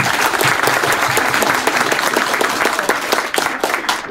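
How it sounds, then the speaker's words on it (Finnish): Dense audience applause at a public event with Sauli Niinistö in Riihimäki, loud and continuous clapping from a sizeable crowd for the whole stretch. "Ani, saako aplodit?"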